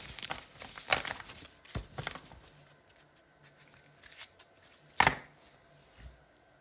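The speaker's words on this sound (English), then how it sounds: "One more shuffle." Playing cards being shuffled during a tarot-style love reading, heard as a few brisk riffling bursts near the start and one sharp ruffle around the middle, close and crisp against a quiet room.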